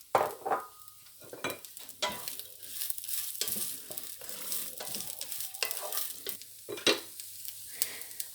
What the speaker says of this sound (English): add my onions to the rice, and then cook these up for just another minute or 2